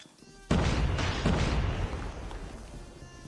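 A grenade explosion in the mobile shooter Call of Duty Mobile: one loud, sudden blast followed by a long, rumbling decay, with no talking over it.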